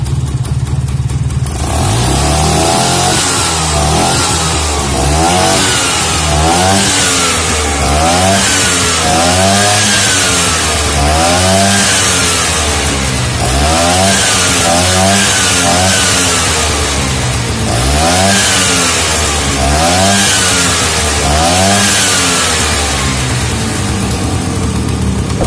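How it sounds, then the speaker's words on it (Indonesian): Vespa PX scooter two-stroke engine revved repeatedly, a loud buzzing whine that climbs and falls in regular rhythmic bursts for a long stretch, close up with no talking. "Kemudian kita coba gas guys."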